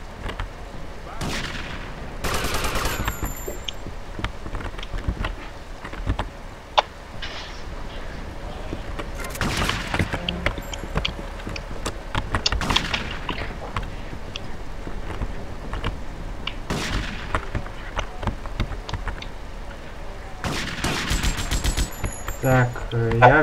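Bursts of machine-gun fire from the zombie-apocalypse mod Long Night in GTA Vice City come in several loud clusters over a steady game backdrop, with short gaps between volleys.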